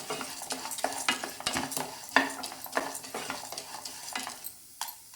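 Lentils dry-roasting in a pan for idli podi, stirred briskly so the grains rattle and scrape against the metal in a dense run of clicks, close up and without speech.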